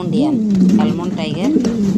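An Almond Tiger Mundian pigeon coos close by in two rising, rolling phrases, with someone talking over it.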